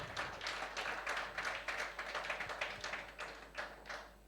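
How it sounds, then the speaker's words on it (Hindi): Loud crowd applause for a best-sales award winner at a Gurbaz company dealer felicitation ceremony, a dense, steady wash of many hands clapping that holds for several seconds with slight swells. "जोरदार तालियां इनके लिए।"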